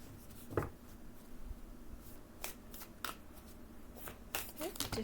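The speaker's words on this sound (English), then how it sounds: "So let's pull a few oracle cards just to wrap up this reading." Star Codes Astro Oracle cards being shuffled, giving quiet, close papery riffles and sharp flicking snaps in irregular bursts against a soft room hush.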